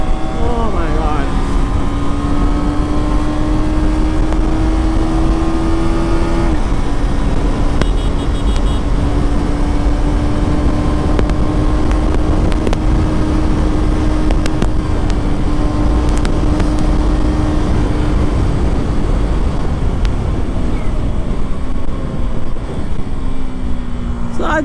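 KTM Duke 250 Gen 3 motorcycle engine under hard acceleration past 6500 RPM, a loud steady droning roar with rising pitch through each gear and brief dips at the shifts, backed by heavy wind rush, with a person talking over it.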